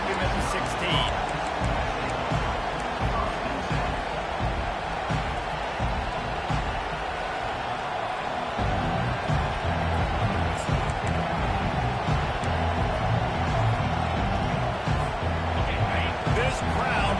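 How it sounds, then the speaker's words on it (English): A packed stadium crowd in the video game College Football 25 keeps up a loud, continuous roar, while a commentator talks over it throughout. "This crowd bringing an ear-splitting welcome to their visitors"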